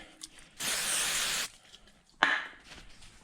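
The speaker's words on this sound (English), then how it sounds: "That is wax and grease remover aerosol. Just kind of hit these a little bit." An aerosol can of wax and grease remover gives a steady, close hiss lasting about a second, followed after a pause by a short second burst, while work goes on around a 1955 Chevrolet.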